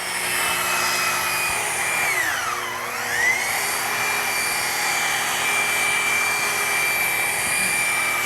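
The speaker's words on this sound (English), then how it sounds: "I'm going to be polishing this whole side of the tank" A rotary polisher works over the fuel tank of a GSXR motorcycle with a steady, close motor whine that dips briefly in pitch partway through, then settles back to an even hum.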